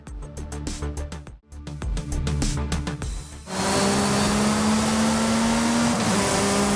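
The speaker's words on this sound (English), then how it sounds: "Forza Horizon 5, the roar of engines" Car engines in Forza Horizon 5 rev in a rapid stuttering burst of gear changes, then settle into a steady, loud sustained roar with a high whine running on top.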